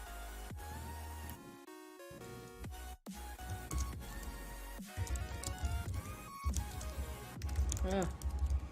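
Fingers tap rapidly across a computer keyboard in irregular bursts of close, crisp clicks while someone talks over the typing.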